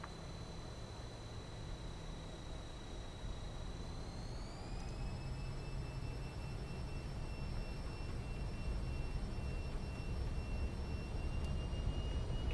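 Simulated airliner engines in a flight simulator game throttle up, a steady broadband roar whose whine climbs in pitch partway through and then holds level, with no voices.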